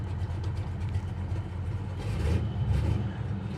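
Steady low idle of a 500 hp 1969 Dodge Coronet R/T engine, a deep continuous rumble heard up close with a slight swell midway and no talking.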